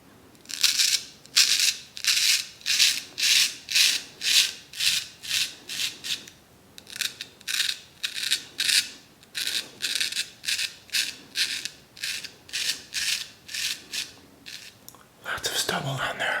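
Close, rhythmic scraping strokes of a razor shaving stubble, each a short rasping swipe, repeating steadily with brief pauses, then a rougher burst at the end.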